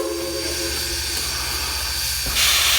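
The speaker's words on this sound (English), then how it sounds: "World famous steam engine number 4501." Steam locomotive number 4501 sits on a turntable, giving off a steady loud hiss of steam over a low rumbling engine drone, with a brief thump and a surge of hissing near the end.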